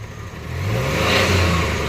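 A Maruti Omni pickup engine revs up as the accelerator is pressed, rising from idle into a louder, steady mid-pitched drone.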